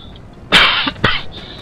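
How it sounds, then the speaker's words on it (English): Two sharp, close coughs in quick succession, loud and raspy, with a faint hiss in the background. "While I'm still coughing"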